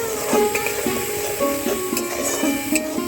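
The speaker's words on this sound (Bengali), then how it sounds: "মশলাটা খুব ভালো করে কষিয়ে নেব।" Masala with turmeric, salt and chili powder frying in a pan, a soft steady sizzle broken by repeated scraping taps of a spatula against the pot, close and fairly loud.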